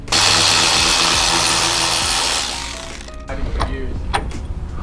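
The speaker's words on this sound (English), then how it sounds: "Step 9, remove the drive shaft bolts." Power tool, likely an impact wrench, loosening drive shaft bolts on an A90 Supra, a loud sustained whir for over two seconds that then drops to quieter clinks and mechanical rattles.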